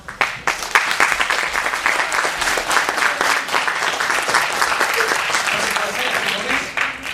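Applause from a theatre audience after a dance performance at a dress rehearsal, a dense, sustained burst of many hands clapping that starts abruptly and holds steady to the end.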